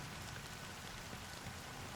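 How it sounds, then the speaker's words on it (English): Steady rain in the video game Honkai Star Rail hisses evenly as a soft, constant wash of drops, alone and without voices. "But it's still raining."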